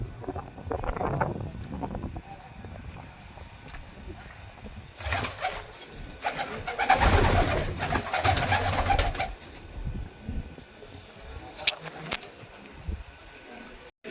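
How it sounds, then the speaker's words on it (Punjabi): Pigeons coo in a roomy open loft during a pigeon-flying contest in Ganganagar, Rajasthan, soft murmuring calls running through the scene with a louder burst of birds and wing flaps midway, and someone talking over parts of it. "ਬਾਈ ਹਰਸ਼ਪਿੰਦਰ ਦੇ ਜਿਹੜੇ ਕਬੂਤਰ ਹੈ ਉਹ ਦਿਖਾ ਰਿਹਾ ਮੈਂ ਤੁਹਾਨੂੰ"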